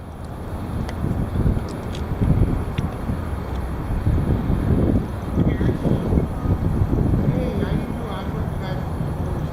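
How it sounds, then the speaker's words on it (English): Heavy wind roars and buffets the microphone in a dense, continuous low rumble with gusty swells, as a voice talks underneath. "The heavy wind. There you have it."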